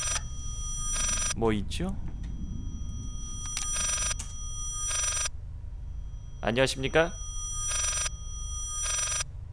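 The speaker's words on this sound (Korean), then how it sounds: "전화벨을 살짝 좀 줄일까요?" Repeated bursts of a telephone bell ringing in the horror game Layers of Fear, loud and regular with short gaps, while a voice speaks over it at times.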